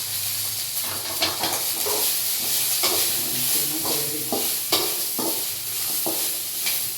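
Vegetables for a vegetable pulao frying in a pan with mint, a steady close sizzle broken by repeated scraping stirs of a spoon, no voices.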